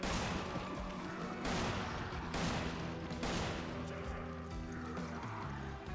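Rapid Magnum pistol fire in the video game Resident Evil 5, dense overlapping booming shots and impacts that run continuously under game background sound.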